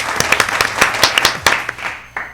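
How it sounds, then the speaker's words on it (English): A small audience at a songwriting showcase gives a short burst of applause. The individual claps sound close and distinct, and they thin out quickly toward the end. "Let's give them a big songwriting round of applause."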